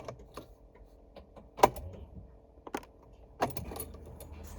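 Keys jangle and a car key clicks into the ignition of a BMW E46 320ci convertible, with a few sharp metallic clinks and rattles scattered across a quiet interior.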